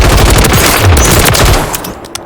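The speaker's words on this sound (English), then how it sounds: "So I was gonna shoot targets just like this." Rapid automatic gunfire from shooting targets in Warzone 3, a dense, loud continuous burst of shots lasting the whole moment with no speech over it.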